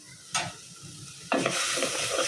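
Ground spice masala being stir-fried in a pot for a sweet pumpkin curry, sizzling and scraping in two bursts, the second louder and sustained, with no talking.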